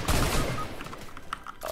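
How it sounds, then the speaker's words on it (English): Burst of gunfire in the Fortnite video game, a dense volley of shots at the start that fades into scattered cracks, loud and close with no talk over it. "They're shooting at you."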